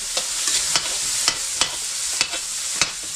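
Onions, garlic and leaves sautéing in a pan, a loud constant sizzle broken by regular sharp scraping strokes of a spoon or spatula about every half second, close up with no talking.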